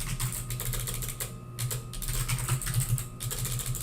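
Rapid, steady typing on a computer keyboard, dense clattering keystrokes close up with two brief pauses, over a low background hum.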